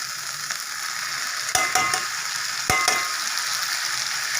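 Boiled beetroot goes into a hot pan and fries with a loud, steady sizzle close by, with two sharp knocks or scrapes of a utensil partway through, and no speech.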